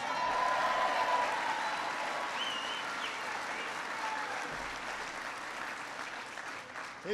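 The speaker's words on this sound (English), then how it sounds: "so give him a big round of applause" Sustained applause from a large audience at a presidential speech on hiring veterans, a dense steady clatter of many hands continuing unbroken for several seconds before easing slightly, with no talk over it.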